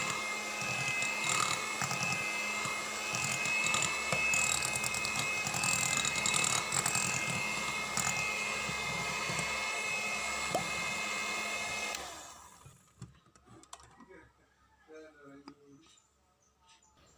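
An electric mixer whirs at low speed through pandan sponge cake batter, a steady mechanical drone with a faint rattling texture that runs continuously, then cuts off abruptly and leaves quiet clinks.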